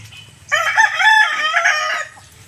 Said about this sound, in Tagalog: At sa aking manok nandito. Nakapatong yung aking manok dyan.